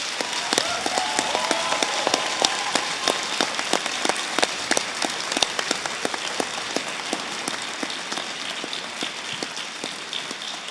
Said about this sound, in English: I hope you'll show your appreciation for our fabulous staff by a round of applause to them